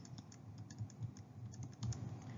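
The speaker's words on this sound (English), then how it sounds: "You can simply type the entire problem in the calculator." Fingers tap out a problem on a calculator keypad, a rapid, quiet run of small clicks close by, with no speech.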